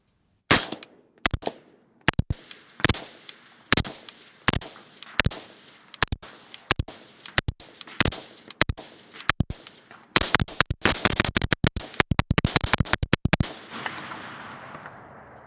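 A rifle with a HUX WRX Flow 556K suppressor fires round after round, sharp suppressed reports spaced about half a second apart, then a fast close burst of shots near the end, loud and alone with no talk.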